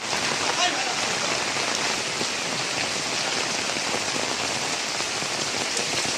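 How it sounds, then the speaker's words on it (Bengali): Heavy rain pours steadily at a shelter housing settlement in Hemayetpur, an unbroken, loud hiss of drops drumming on surfaces close by with no let-up. "এই তো বৃষ্টি বাদলের মধ্যে"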